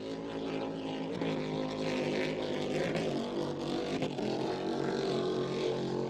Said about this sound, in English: the Fernabo boat running very, very well indeed